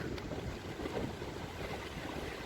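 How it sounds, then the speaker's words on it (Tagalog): Gusty wind buffets the microphone over a steady wash of big waves around an island, a rough, continuous roar with no voices. "malakas ang hangin at malalaking alon"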